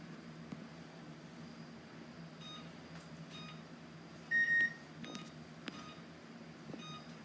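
A kitchen oven timer gives a short beep as its buttons are pressed, heard once over a steady low hum of room noise, with faint clicks scattered around it.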